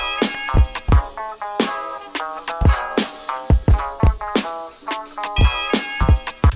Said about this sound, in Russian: Теперь давайте запишем кик.